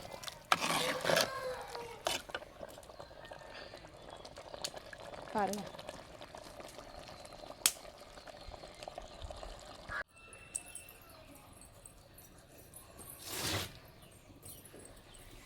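Mutton curry with onion and tomato simmers and bubbles in a pot as water is poured in, the pouring splashing briefly over a low steady sizzle while a person talks throughout.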